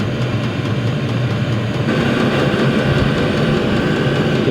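A VEVOR 8 kW diesel air heater running and blowing hot air, a loud steady broadband roar with a low rumble, unchanging apart from a slight lift in level midway, with no voices.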